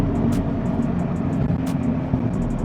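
A 2016 Scion FR-S engine held in third gear gives a steady, loud drone with road rumble underneath, continuous and close throughout, with no talk.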